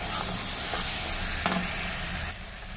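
Meat spice paste fries in oil in a pot, giving a soft continuous sizzle with a few scraping stir strokes. One louder scrape comes near the middle, and the sizzle eases slightly at the end.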